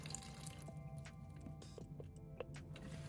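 A faucet left to drip during freezing weather lets fall a few scattered drops, faint and irregular over a steady low hum.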